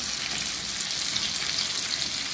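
Vermicelli with tomato sauce and spices fry in a pan, a dense, loud, steady sizzle that crackles continuously and evenly throughout.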